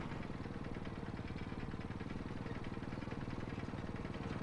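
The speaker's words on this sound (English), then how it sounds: "Even just this engine sound brings back memories." A tank engine rumbles steadily in World of Tanks, a low, even idling drone with faint rhythmic knocking that holds at a constant quiet level throughout, with no voices.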